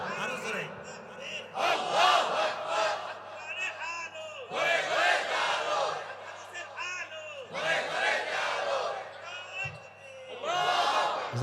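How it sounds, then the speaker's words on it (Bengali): Large crowd at a Bangladeshi religious sermon gathering loudly shouting takbir in repeated surging bursts, each roar a few seconds long with brief lulls between, close and intense. "তাকবীর দেন আরো জোরে।"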